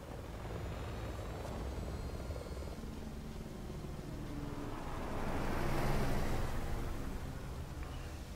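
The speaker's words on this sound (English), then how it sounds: "I forgot a helicopter assists in the Ada in the Simmons fight." Helicopter rotor drone from the Ada and Simmons boss fight in the video game Resident Evil 6, a steady whirring wash mixed with game ambience that swells louder mid-clip, with no talking.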